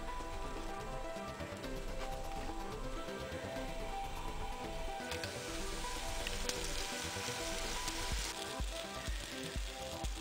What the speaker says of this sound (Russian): Все это жарится быстро.